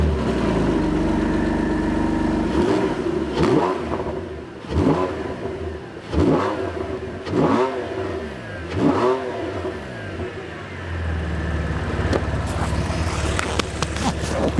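A naturally aspirated Porsche 911 of the 991 generation idles, then blips its throttle five times in a row. Each rev rises and falls in a deep, booming burble before it settles back to a steady idle.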